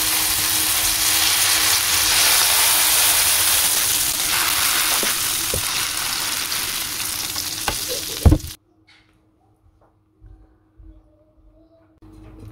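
Spinach and cornmeal lakror dough hits a hot buttered baking pan and sizzles loudly and continuously for about eight seconds. A few sharp clicks cut through, then a sudden stop into near silence with faint handling noises.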